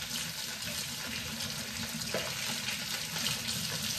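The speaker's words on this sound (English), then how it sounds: "And then rinse them off." Chopped asparagus is rinsed under a running kitchen tap, a steady, close hiss of flowing water that continues without a break.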